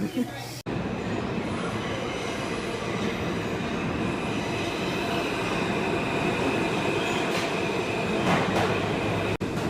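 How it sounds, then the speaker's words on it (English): A New York subway train rumbles loudly and steadily from inside the car, with wheel noise and faint squeals, and a few indistinct voices mixed in. "now we're getting on the subway to go back uptown"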